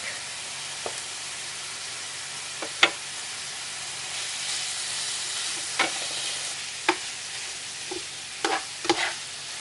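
Meat browning with turmeric in a pan, a steady low sizzle broken by several sharp clicks and scrapes of a utensil against the pan, no talking.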